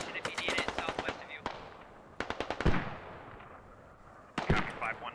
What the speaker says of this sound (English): I think I hear mortars flying through.